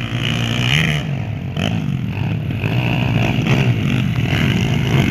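Trail motorcycles race in a competition, their engines buzzing and revving continuously up close, with shifting pitch and some rattling clatter.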